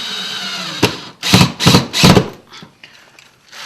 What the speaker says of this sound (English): I have a drill.